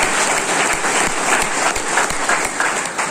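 An audience claps hard and steadily, a dense even wash of applause throughout with no voices standing out.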